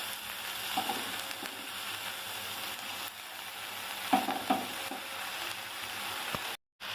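Leafy greens and lentils go into a hot tempering for a simple greens stir-fry, giving a soft, steady sizzle with a few light clinks and scrapes of stirring, fairly quiet and close.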